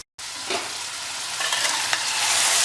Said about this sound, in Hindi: अब इसके अंदर हम मीट डाल रहे हैं। मीट का जो पानी निकलेगा उसी के साथ ये हमारा मसाला भी पकेगा।